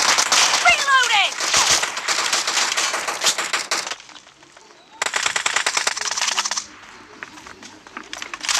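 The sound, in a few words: shotgun gunfire in a video game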